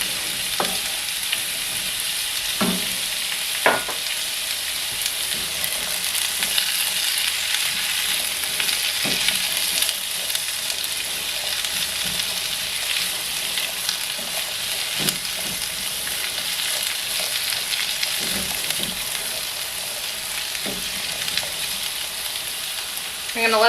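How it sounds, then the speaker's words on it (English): Sausage and celery brown in a pan for Thanksgiving stuffing, giving a loud continuous close-up frying hiss with frequent scattered clicks and scrapes of stirring throughout. "The sausage is almost done browning."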